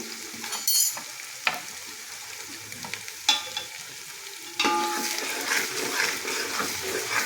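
Spices sizzle and crackle in hot oil as chili powder goes in, with intermittent scraping stirs against the pan, the frying hiss growing steadier and louder toward the end.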